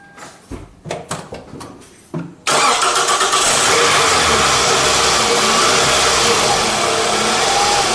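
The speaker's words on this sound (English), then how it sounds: "and I can start this my car." A car engine cranks in several short bursts, then catches and runs at a steady, loud idle that fills the rest of the moment.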